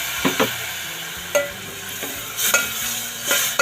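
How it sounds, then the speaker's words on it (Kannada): Egg masala curry stirred in a pan as tamarind juice goes in, a spoon scraping and clinking against the pot in several separate strokes over a soft, steady sizzle, with no talking. "ತಿರುಗಿಸ್ತಾಯಿದ್ದೀನಿ. ಇದೇ ಟೈಮಲ್ಲೇ ಹುಣಸೆ ರಸ ಹಾಕ್ತಾಯಿದ್ದೀನಿ."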